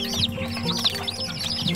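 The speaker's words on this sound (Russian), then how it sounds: "смотрите, это наши маленькие доминантики" Chicks of the Dominant breed cheep indoors in a brooder, a close, continuous chorus of high, rising peeps overlapping one another over a low steady hum.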